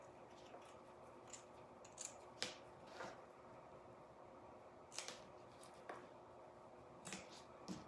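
Scissors snip through a felt leaf in a quiet room: soft, sharp cuts come one at a time at uneven intervals, faint and close.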